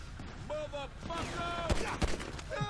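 Gunfire from the video game Grand Theft Auto V during a shootout with a biker gang, with sharp shots cracking under layered music and game audio, two distinct loud bangs standing out near the end.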